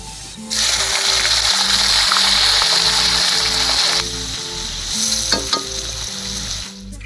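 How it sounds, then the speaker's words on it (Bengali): Chopped onions hit hot oil with cumin and whole spices in a pan, bursting into a loud, close sizzle that holds steady, then eases to a softer crackle with a few scraping stirs near the end. "এবারে কেটে রাখা পেঁয়াজগুলো দিয়ে নেবো।"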